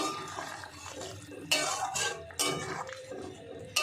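A prawn and fig curry is stirred in a pan with a spoon, giving bursts of scraping and metallic clinks at an irregular pace, with a quiet sizzle between strokes.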